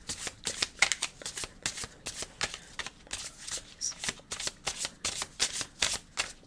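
A deck of cards being shuffled close up, with rapid repeated riffling and flicking bursts in a steady rhythm and faint talk underneath.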